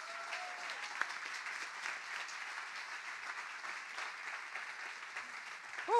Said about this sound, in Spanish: Dale aplauso al Rey.